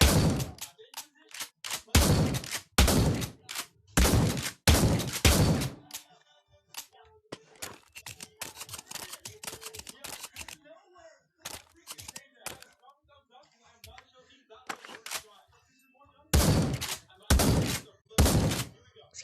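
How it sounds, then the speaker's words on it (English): Guns fire at a shooting range in the VR game Pavlov: loud sharp shots, several in quick bursts near the start and more near the end. Quieter clicks and handling noises fill the gap between them. "It's kind of like shooting guns in real life."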